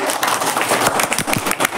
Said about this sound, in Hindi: ताली जोशिन के लिए जोर से